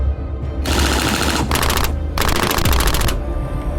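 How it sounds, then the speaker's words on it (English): A .45 caliber Tommy gun fires in rapid automatic bursts, loud and close, three sustained strings of shots separated by short pauses. "and of course, Tommy gun, 45 caliber"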